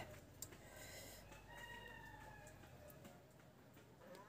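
A house cat, one of four being fed fish on a hot day, lets out a few faint, drawn-out meows against quiet background noise.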